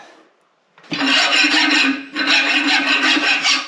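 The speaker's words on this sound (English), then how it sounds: "now it's time to go do the hot rasp and get ready to rivet" Hot rasping of blacksmith box jaw tongs at the forge: a loud, harsh rasp filing the hot metal in two long strokes, with a short pause between them.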